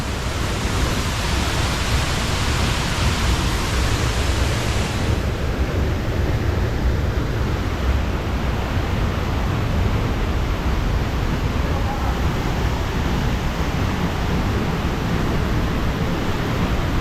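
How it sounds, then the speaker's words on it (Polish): A waterfall roars as a dense, steady wash of broadband noise, loud and close, unbroken for the whole stretch. "Pilnujesz wodospadu?"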